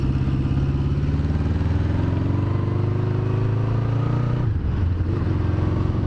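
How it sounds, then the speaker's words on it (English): A 1976 Honda CB550 Four with four exhausts revs hard nearby, its engine climbing in pitch over several seconds before dropping back sharply toward idle, loud and continuous, with no talking. "But the bike is revving out all the way too"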